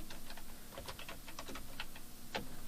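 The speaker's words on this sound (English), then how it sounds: "You could start by typing" Fingers tap on a computer keyboard in quick, uneven bursts of close, crisp keystrokes with brief pauses between words, quiet and alone with no voices.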